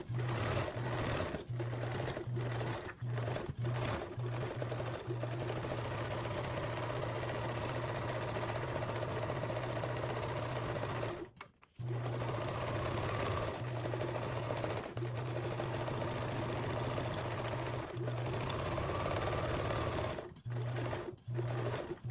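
A sewing machine basting binding for a convertible duffle with a narrow seam allowance, a loud steady mechanical hum running almost continuously with a few short pauses.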